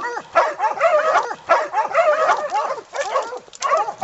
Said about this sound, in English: that dog just got hit.